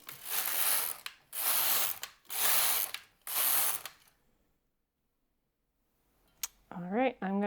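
A knitting machine carriage makes four loud, rasping mechanical passes across rows of yarn knitted with wire, each lasting under a second with short gaps between. Silence follows, then a brief voice is heard at the end.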